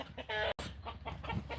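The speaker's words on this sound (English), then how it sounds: "And here's the little chicken." A chicken gives a few short, close clucks in quick succession, with faint background noise around it.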